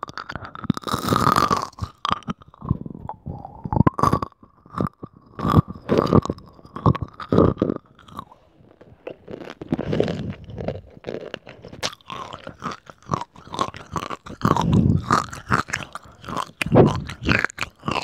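Close, crisp chewing and crunching of chips, peanut M&Ms and crackers, with steady bites and mouth sounds repeating throughout and no talking.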